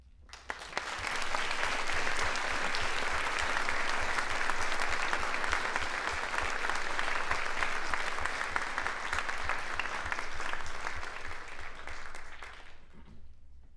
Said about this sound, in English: Can we please have one more round of applause?